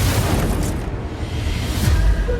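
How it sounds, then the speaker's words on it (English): An explosion in the spice den basement from Dune: Prophecy, rolling through a facility as a dense, loud low rumble that swells and holds for a couple of seconds without a sharp initial crack. "An explosion set off in the basement of it, reaching throughout the entire facility"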